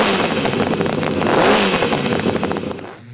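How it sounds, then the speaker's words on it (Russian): A custom eight-cylinder motorcycle engine runs at full power, a loud, close, rough roar with clattering pulses that swells mid-way and then drops off sharply at the end. "и двигатель заработал на полную."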